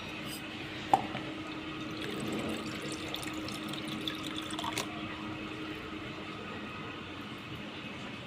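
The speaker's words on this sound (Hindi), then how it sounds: "पहले भरेंगे हम पानी," Water runs steadily to fill a glass in a home kitchen, a faint, continuous rushing hiss with a small clink near the start and no talking.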